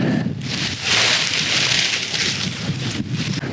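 Strong wind roaring loudly and steadily across a paragliding wing in flight, a broad constant rush with gusty swells and no talk.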